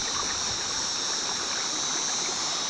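Stream water in Sundown National Park rushing over rocks: a loud, steady, close hiss and gurgle with no pauses.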